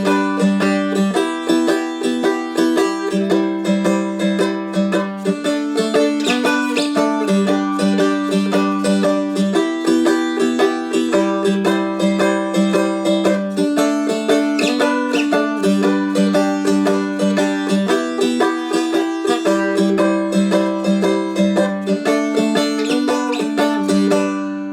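Strumstick dulcimer plays a bright, continuous strummed chord progression with rhythmic variations, steady and close for the whole stretch, with no voices.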